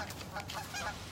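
Geese honk noisily in the background, a steady run of overlapping calls through the short stretch with no talk over them.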